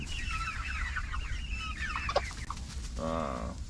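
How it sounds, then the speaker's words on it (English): Several young replacement hens cluck and chatter nearby over a steady low hum, with one louder, drawn-out squawk near the end. "Nice set of replacement hens coming here."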